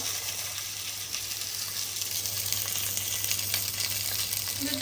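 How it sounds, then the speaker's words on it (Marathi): Coriander, mint and curry leaves roasting in a pan give a soft, steady sizzle with faint crackles, close and continuous, with a low hum underneath and no talking. "कोथिंबीर पुदिना कढीपत्ता एकत्र भाजून घेऊया आपण"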